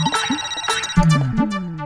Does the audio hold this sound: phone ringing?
yes